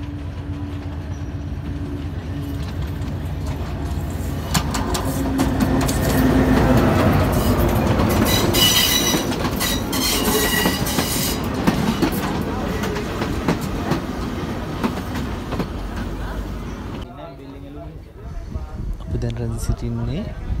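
A train arriving at Idalgashinna railway station on the Badulla line, with a loud, steady rumble and rhythmic wheel clatter that swells in the middle and eases near the end, while voices murmur underneath.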